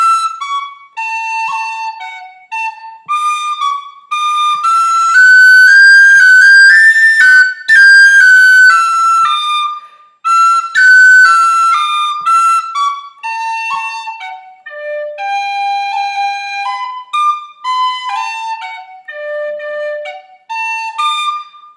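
Tin whistle playing the Irish tune The Rambling Pitchfork (An Píce Fánach), a bright, clear melody with quick ornamented notes running continuously, close and loud with no talk.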